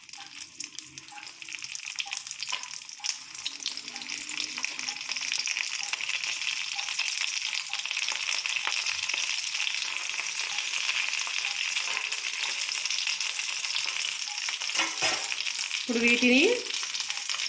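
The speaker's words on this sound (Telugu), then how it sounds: "ఆయిల్ కొంచెం హీట్ ఎక్కిన తర్వాత మనం ప్రిపేర్ చేసుకున్న పొట్లాలు ఉన్నాయి కదండి, ఇలా ఒక్కొక్కటి ఇలా వేసుకోవాలి" Stuffed taro leaf rolls dropped one by one into hot oil, giving a steady close sizzle throughout, with a brief louder burst of bubbling near the end and a few quiet spoken words early on.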